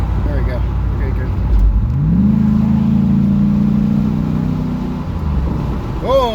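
Buick Rainier with a custom Flowmaster exhaust and resonator on a stock motor, revving up to a held drone, then dropping off with a small pop while people talk over it.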